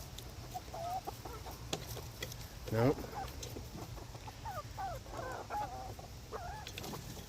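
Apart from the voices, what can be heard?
young chickens clucking at coop at bedtime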